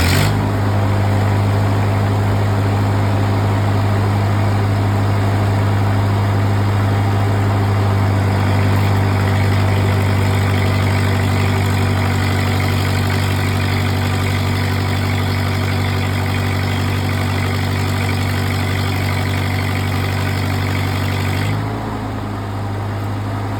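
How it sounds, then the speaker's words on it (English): A used welding machine's engine idles steadily and loudly at close range, a constant low hum with strong harmonics that holds unchanged for about twenty seconds before dropping slightly near the end. "Hear how that machine idled up strong."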